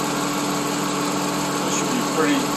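A 2001 Subaru Legacy that runs rough and overheats after an upper hose replacement idles with a steady, slightly uneven hum and a faint higher whine, heard close with no talking.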